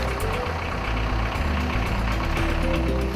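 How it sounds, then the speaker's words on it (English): An ABi trench burner's engine starts and runs at a steady, loud, close idle with a low rumbling drone and no talk over it. "Start the engine by turning the key to the right."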